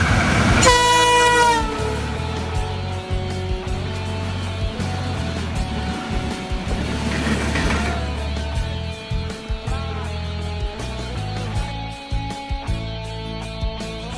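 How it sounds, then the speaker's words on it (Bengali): A train pulling into a railway station: a loud horn blast at the start, then the rumble and clatter of wagons rolling past with squealing wheels and further horn notes, close and continuous with no speech. "তো আমরা আসার পরে দেখি ট্রেন চলে আসলো"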